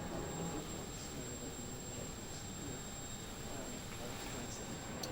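British Airways aircraft jet engine running during a ground test, a steady broadband roar with a faint whine, constant and moderately quiet, with voices alongside.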